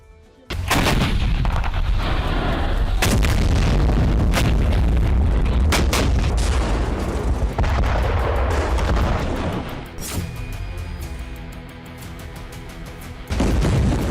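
Loud, close explosions from a targeted strike on a Hamas tunnel in Gaza by the IDF, several heavy booms in quick succession with rumbling debris between them and a final blast at the end.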